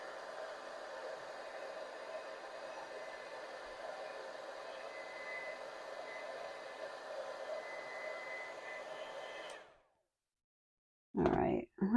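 A hair dryer blows steadily for about nine seconds over wet watercolor paint, an even close whooshing hum that winds down and stops, followed by brief silence and a short voice.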